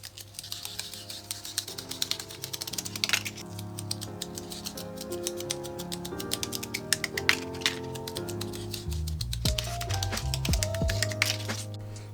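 An electronic cutting machine slices paper rosette pieces, producing a steady busy run of rapid ticking, clicking motor movements with shifting whirring tones throughout, close and moderately loud with no talking.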